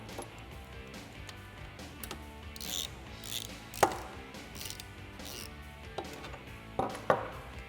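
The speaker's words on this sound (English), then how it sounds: "I'm going to get the other one in place before we tighten that down." Nut being tightened on an intake bracket of a Jeep Wrangler JK during a cold air intake install, with faint clicking and ratcheting metal sounds, several sharper clacks of hardware, and quiet close workshop handling between them.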